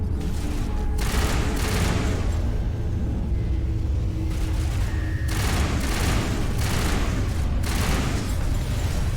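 Heavy gunfire in the Mass Effect 1 video game as the crew comes under fire from a huge ship, dense overlapping bursts and booms rolling loud and continuous throughout with no pauses.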